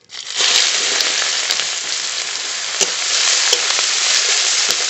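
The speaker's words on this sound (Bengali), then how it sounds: "পেঁয়াজটা একটু ভাজা ভাজা হোক" Chopped onion with bay leaf, dried red chilli and whole cumin frying in hot oil for chicken kosha: a loud, steady sizzle with a few sharp crackles and pops, with no voices.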